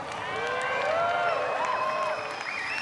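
Crowd noise at a BMX freestyle park World Cup final in Edmonton, a steady, loud mass of cheering and applause that holds throughout with a blur of many voices.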